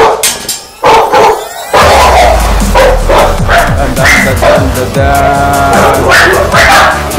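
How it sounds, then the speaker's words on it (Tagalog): Kronos, an American Bully dog, lets out a run of loud, close barks and yips in quick bursts, with short whimpering notes between them and a busy background of people nearby. "Okay, tumatahol na"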